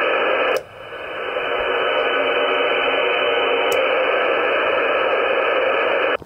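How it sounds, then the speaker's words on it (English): Steady hiss of background static from a Xiegu G90 ham radio receiver with its antenna in line, a constant band-limited noise holding throughout with a brief click near the start and another later. "The G90 just makes a lot of noise just being on."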